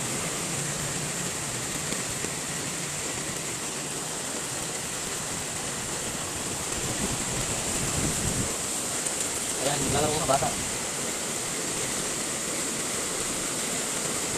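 Floodwater flows through Gonzaga after heavy rain, a steady broadband rushing wash throughout, with brief talk and a few louder splashes midway.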